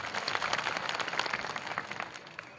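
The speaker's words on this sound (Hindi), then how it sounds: "सबसे पहले आप ताली बजा के अभिवादन करिए" Crowd at a rally clapping in greeting, a faint, distant patter of scattered applause that thins out toward the end.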